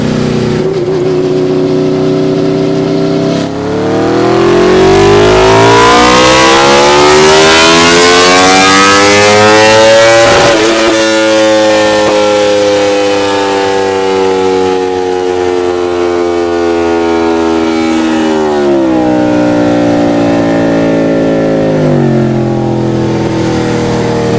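An Aprilia RSV4 1000cc superbike engine revs up on a dyno and holds a loud, rising howl for a long pull, then drops and winds up again, close and continuous.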